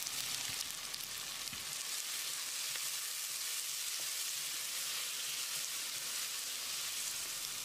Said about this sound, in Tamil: வெங்காயத்தை நல்லா பொன்னிறமாக வதக்கணும்.